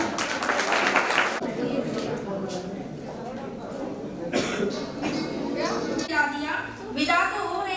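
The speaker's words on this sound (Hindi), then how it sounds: "जोरदार तालियां बजा दीजिए हमें सभी।" A burst of clapping comes from an audience at a convocation ceremony, starting loudly and then thinning out. Coughs and scattered voices are mixed in.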